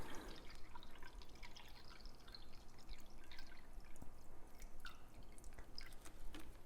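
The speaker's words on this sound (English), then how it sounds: "I am going to pour 12 ounces of water into this measuring cup" Water poured into a measuring cup to about 12 ounces, a steady trickling and dripping pour heard close up with no talking, running for several seconds.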